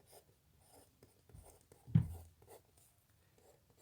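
Pen or pencil writing numbers by hand on paper, faint intermittent scratching strokes with one sharper tap, close and quiet.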